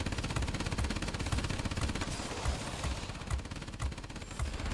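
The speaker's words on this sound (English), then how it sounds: "Love to take him out with the rear gun here if we can." Rear gunner's machine gun on a Blohm und Voss P.215.02 multirole fighter in World of Warplanes, rattling in rapid continuous bursts over the steady drone of the aircraft engine, loud and close throughout.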